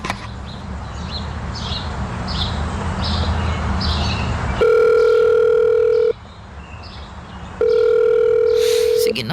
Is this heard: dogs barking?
no